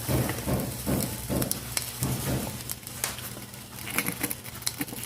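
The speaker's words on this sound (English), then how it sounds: "You can hear that sizzling." Steady crackling sizzle of food frying close by, with soft scraping and patter throughout.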